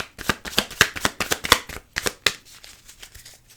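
Oracle cards shuffled and dealt into three piles: a quick series of crisp riffling and slapping bursts, near and distinct, thinning out toward the end.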